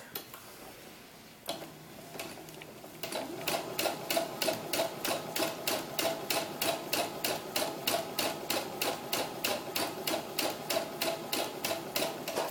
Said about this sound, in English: I've got my machine set for gathering stitch, and I'm going to do the same on each side